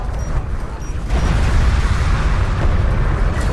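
Bombs dropped by bombers burst in a strategy game battle, a loud, sustained rumbling explosion that swells after the first second and roars on without a break.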